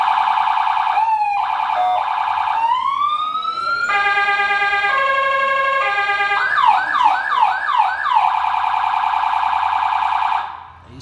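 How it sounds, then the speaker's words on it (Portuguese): A professional security-kit siren on an Amarok pickup blares loud and close, cycling through wailing, yelping and two-tone warbling patterns for about ten seconds before cutting off. "E pra completar aquela sirene, mas é a profissional, hein? Baita força, baita altura."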